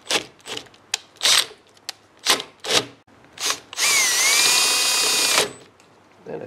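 A power drill drives a threadsert into a worn stud hole. Short bursts of rasping cutting noise give way to a loud, sustained whirring run of a couple of seconds.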